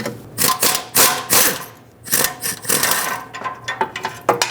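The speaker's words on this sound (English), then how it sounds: "On this one, I can fit my air tool." An air tool removes the bolt holding a bracket to the engine block of a 2012-2017 Toyota Camry, firing in loud rattling bursts with short pauses between them, close up.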